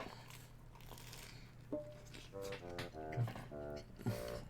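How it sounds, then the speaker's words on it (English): Someone chewing noisily, with soft wet crunching and smacking sounds in short irregular bursts, faint and close against a quiet room. "Jelly makes noises when he chews."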